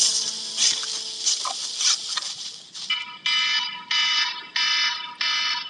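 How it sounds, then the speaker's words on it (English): An alarm clock beeps in loud, evenly spaced bursts, about five clear pulses after a busier stretch of tones at the start, with no voices over it. "when that alarm goes off at 4:30 in the morning"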